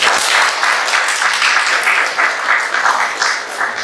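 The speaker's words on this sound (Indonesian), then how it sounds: "kita sambut gembala kita nanti dengan tepuk tangan yang meriah" A church congregation at a Sunday evening service claps loudly and warmly to welcome their pastor, a dense, sustained wash of many hands close by, steady throughout with slight swells.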